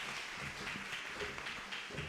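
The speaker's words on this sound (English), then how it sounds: "Can we give her a round of applause?" Applause from an audience at a university postgraduate research day, a steady dense patter of many hands clapping throughout, moderately distant and fairly quiet, with no voices.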